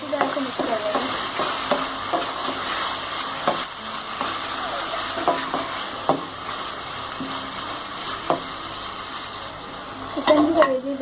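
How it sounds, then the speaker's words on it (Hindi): Spiced chicken liver masala being stirred in a frying pan, with steady sizzling and scraping spoon strokes recurring every second or so, close and moderately loud throughout. "अच्छी तरह से मिक्स कर लेंगे।"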